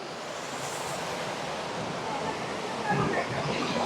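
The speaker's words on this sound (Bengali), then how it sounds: "এটাই হচ্ছে তুরগা ওয়াটারফলস।" Turga waterfall in Purulia pours with a steady broadband rush of falling water, swelling slightly toward the end, while a person talks over it.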